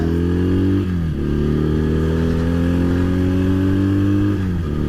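A steady, loud idle from a Honda CB 125 motorcycle engine, a close, even mechanical drone with two brief dips in pitch as the throttle shifts slightly.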